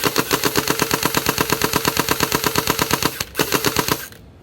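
An MKM2 gel blaster toy gun fires rapid full-auto bursts, a loud, fast, evenly spaced mechanical rattle with one brief break before a final run that ends abruptly.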